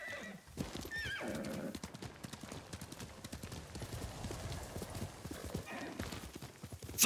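Horse hooves clip-clop steadily in the Ghost of Tsushima video game, with a whinnying neigh at the start and near the end over a continuous busy background.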